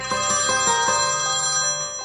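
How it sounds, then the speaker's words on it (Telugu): A mobile phone rings with an incoming call, playing a bright melodic ringtone of repeated tones at an even pace, clear and fairly close with no voices over it. "ఆ ఫోన్ ఎవరు చేస్తున్నారు చూసేసిపో"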